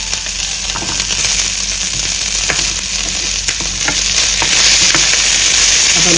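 Green chillies and garlic fry in a small amount of oil, giving a loud, steady, close sizzle with faint crackles and stirring clicks throughout, no voices.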